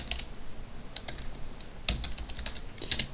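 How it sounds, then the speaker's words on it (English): Typing on a laptop keyboard: sparse, uneven clicks and short bursts of keystrokes, close and fairly quiet, with no talking. "every time I type a symbol I have to look on my laptop"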